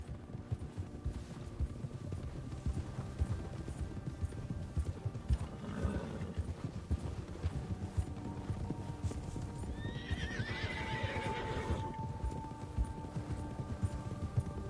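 Horses gallop with steady, rapid clip-clopping hooves in Red Dead Redemption 2, with two distinct whinnies rising over the hoofbeats, set against a constant low rumble of movement.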